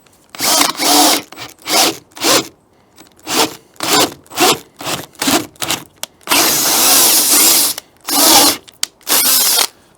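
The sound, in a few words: power drill drilling holes in a door for a deadbolt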